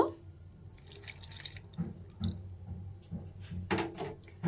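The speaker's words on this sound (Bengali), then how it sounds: "আর একটু জল আমি এখানে দেব" Water is added to semolina dough for jali roti, giving soft close drips, small splashes and wet squelching from mixing at low volume.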